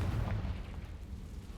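A Confringo spell explosion in the video game Hogwarts Legacy, a single deep, muffled boom that rumbles briefly and fades quietly.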